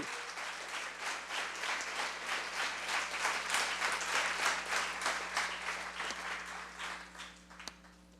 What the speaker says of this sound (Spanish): Denle ese aplauso a Él.